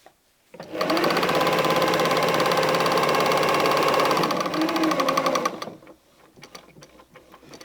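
A sewing machine runs steadily for about five seconds, stitching a patchwork quilt top with mitered corners, its fast even whir loud and close before stopping and leaving faint quiet afterward.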